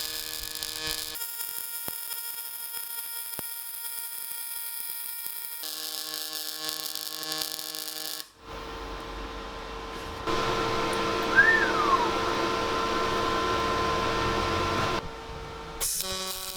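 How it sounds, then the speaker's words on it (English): A 500-amp double pulsed MIG welder lays down a weld, giving a steady buzzing hum that shifts in tone partway through and then settles into a louder, harsher crackle before cutting out. "This is me having a go at some pulsed MIG with some slightly different settings"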